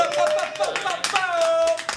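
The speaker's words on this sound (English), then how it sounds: "Everybody give a round of applause." A crowd claps in a brief burst of scattered applause, with a voice speaking loudly over it.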